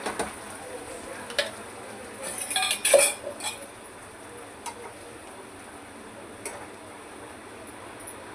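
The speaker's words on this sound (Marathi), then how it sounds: "तमालपत्र आणि हा मसाला आपण चांगले छान परतून घेऊया तेलामध्ये." Bay leaf and ground masala paste being stirred in hot oil for a Kolhapuri vegetable curry, with quiet scraping and metallic clinks of a spoon against the pan, a brief busier burst of stirring midway, otherwise a soft low sizzle.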